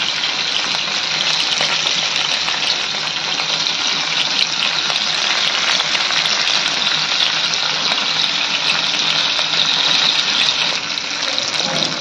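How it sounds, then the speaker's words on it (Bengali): Pieces of fish frying and being turned in oil, an unbroken loud sizzle close to the pan, steady and bright throughout with faint crackles scattered within it. "মাছগুলোকে উল্টে পাল্টে ভালো করে ভেজে নিতে হবে।"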